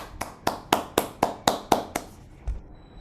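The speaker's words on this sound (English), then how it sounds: "A big round of applause for Toastmaster Madhupa." Sparse applause at a Toastmasters club contest, a few close hand claps in an even, slow rhythm, about eight in a row, then one last clap and quiet.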